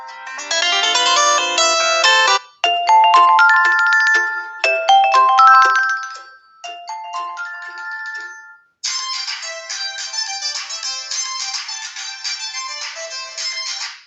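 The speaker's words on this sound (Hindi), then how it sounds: "फोन रिंगटोन्स में आ जाते हैं और देखते हैं कुछ रिंगटोन्स को चलाकर।" Several different phone ringtones play one after another through the small speaker of a Tecno Spark 6 Go phone, bright electronic melodies and chimes, loud and clear with brief gaps between them.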